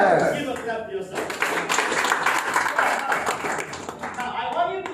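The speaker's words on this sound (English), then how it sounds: "Give a clap to yourself." An audience at a motivational income seminar claps in a dense burst that swells and holds for several seconds, with voices and cheering mixed in over the applause.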